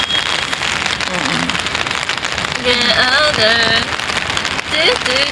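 Rain patters steadily on surfaces near a station at night, a dense continuous hiss with scattered drops, while background voices and music sound faintly underneath.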